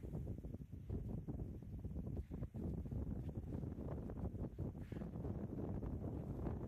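Outdoor wind rushes and buffets the microphone on snowy volcanic cinder ground ahead of an incoming rainstorm. It makes a steady, loud roar with gusty dips and no voices.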